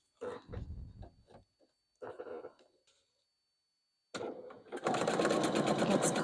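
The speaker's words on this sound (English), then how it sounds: "we are going to be stitching them together" A sewing machine stitches quilt petals together for a Bobbins and Blooms sampler quilt, starting with short bursts and pauses, then running in a loud, steady whir near the end.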